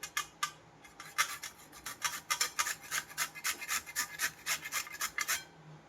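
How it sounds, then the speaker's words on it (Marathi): Carrot rubbed against a small hand grater, a close series of rapid rasping strokes in an even back-and-forth rhythm, moderately quiet with no talking. "ते छोट्या किसणीनं आहे ना आपल्याला गाजर किसून घ्यायचं आहे"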